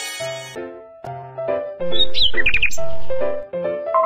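A cartoon bird chirps in a quick series of high tweets mid-clip, set among bright musical jingle notes in a children's hearing-test game.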